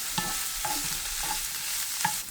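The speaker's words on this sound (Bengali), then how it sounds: "একেবারে লাল লাল করে ভেজে নিচ্ছি" Cabbage fries in a pan until reddish, a steady close hiss of frying with a few soft stirring taps.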